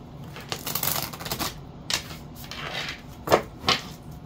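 Tarot cards shuffled by hand during a reading, heard as a close run of crisp riffling and slapping bursts, with a few sharper taps near the end and no talk.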